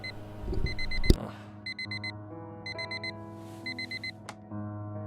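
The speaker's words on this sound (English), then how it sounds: "The same alarm tone that Harry can sleep through" An alarm clock tone rings in the video game Fragments of Him, repeating as short bursts of rapid electronic beeps in a steady pattern, moderately quiet, with a soft thump and a sustained hum beneath.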